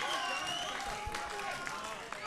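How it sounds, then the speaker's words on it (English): At an International Fighting Tournament bout, the fight crowd applauds and cheers at a moderate distance, with scattered claps and a rising murmur running under a commentator's talk. "the crowd comes alive"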